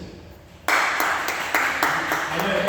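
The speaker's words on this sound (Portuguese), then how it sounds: "Uma salva de palmas, por favor." Two men clap their hands together in a church congregation, a deacon and a presbyter, striking a steady run of sharp claps at a regular beat after a quiet moment.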